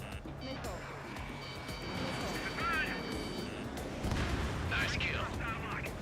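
Missiles fired in the Ace Combat 7: Skies Unknown jet combat game, rumbling launch roars and whooshes over constant engine drone, with in-game radio voices and warning tones layered on top.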